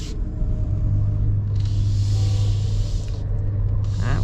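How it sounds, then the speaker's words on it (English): A loud Chevrolet Corvette Z06 engine rumbles past nearby, a steady heavy roar with rising and falling road noise heard from inside another vehicle. "so that's a Z06. It looks like that was loud."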